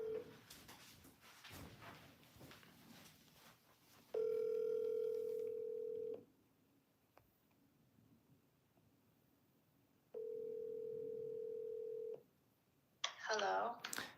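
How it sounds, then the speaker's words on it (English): A telephone placing a call: touch-tone dialing beeps, then two long steady ringback tones separated by quiet, and a brief burst of sound at the end. "We're about to get someone on the phone."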